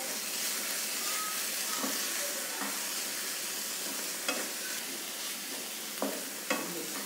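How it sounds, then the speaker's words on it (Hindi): Vegetables stir-fry with spices in a pan for a roti roll filling, giving a constant close sizzle. A few spatula scrapes and light knocks punctuate the sizzle, and no one speaks. "इसे हम 2 या 3 मिनट तक के भुनेंगे, ताकि जो हमारे जो मसाले हैं सब वो अच्छे से मिक्स हो जाए।"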